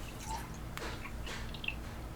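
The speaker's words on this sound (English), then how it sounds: "Apparently this is my first time pouring a beer." Beer, a brown ale with pralines from Wichita Falls Brewing Co., pouring from a crowler can into a glass, with faint close dribbles and splashes of liquid and no talking.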